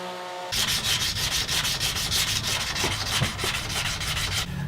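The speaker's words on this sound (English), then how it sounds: "it's time to sand it all down again." Sandpaper rubbed back and forth over a dyed wooden electric guitar body, close and steady with a regular rhythmic scratching stroke after a brief quiet start.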